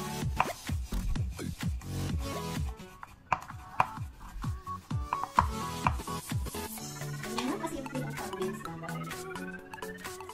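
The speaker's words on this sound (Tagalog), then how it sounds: "Hati namang sibuyas." A knife chops through an onion on a cutting board in a home kitchen, a run of quick crisp knocks close by, followed by softer rubbing and scraping sounds, with no talking.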